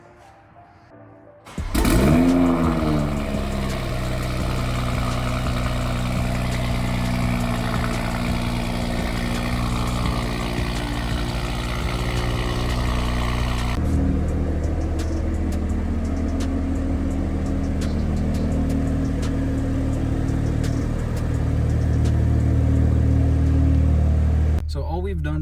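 An MK5 Toyota Supra engine cranks and catches on a cold start, then settles into a steady, throaty idle that runs on loud and close, with the pitch dropping a bit partway through.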